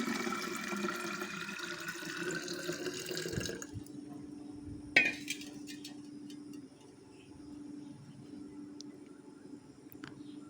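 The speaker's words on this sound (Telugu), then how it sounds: "స్ప్రే బాటిల్ తీసుకొని ఒక లీటర్ వరకు వాటర్ పోసుకుంటున్నాను" About a litre of water pours into a spray bottle to make a neem oil spray, a close, splashy stream for the first few seconds that then gives way to quiet dripping and faint room noise.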